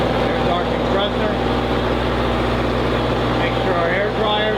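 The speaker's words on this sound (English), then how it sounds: "We got a generator running." A generator and compressor for a spray foam rig run together in a loud, constant mechanical drone with steady low hum, filling a noisy room while a voice speaks faintly over it.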